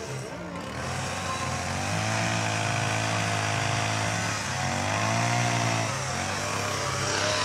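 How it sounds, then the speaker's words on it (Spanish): A chainsaw carves a wooden log into a sculpture, its engine droning steadily and loudly for the whole stretch, the pitch dipping and rising slightly as the cut changes. "pasé a un siguiente nivel en el tallado con motosierra."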